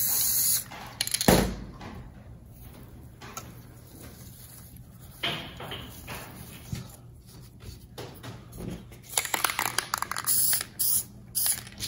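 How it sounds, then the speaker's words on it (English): Spray adhesive hisses from a can in short bursts while an air-plant living wall frame is finished, a few close sprays separated by quiet handling noises. "You can always add a little bit more spray adhesive."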